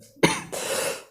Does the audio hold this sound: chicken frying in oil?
no